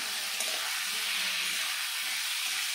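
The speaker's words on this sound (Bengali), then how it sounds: "ভালো করে আলুটা ভেজে নেব।" Potatoes fry in a pan for a Bengali bitter gourd and hilsa curry, a steady close sizzling hiss throughout with no talk.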